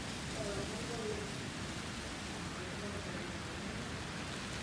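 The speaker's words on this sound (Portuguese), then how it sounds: "Ela aumentou um pouquinho a chuva agora, tá? Tá molhando a calçada." Steady rain pours onto a city pavement during a dusty windstorm, a dense continuous hiss filling the whole stretch at an even level, with faint voices murmuring underneath.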